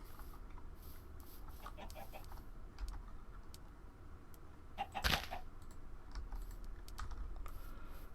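Chickens cluck in a Minecraft modpack game, with a few short clucks scattered over the scene among keyboard typing and clicks, all fairly quiet and close.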